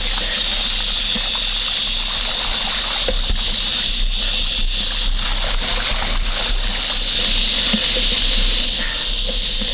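Mountain bike wheels pushing through about six inches of flood water on a New Orleans city street, a continuous close sloshing and splashing wash with a steady hiss that holds evenly throughout.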